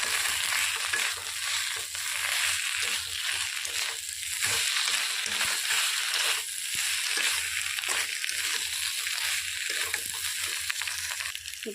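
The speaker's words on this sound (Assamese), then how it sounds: "গোটেইখিনি লৰাই মই অলপ সময় ভাজি লৈছোঁ।" Pointed gourd and potato stir-fry in a pan for a mustard-based Assamese dish, giving a steady, loud sizzle with scraping and stirring clatter throughout and no talking.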